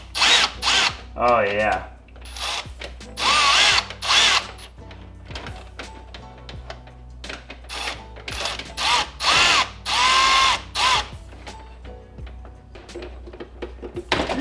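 Power drill driving a 7mm socket and Phillips bit while stripping down a Miata for an LS swap, repeated loud bursts of whirring and ratcheting with pauses between, one brief voice.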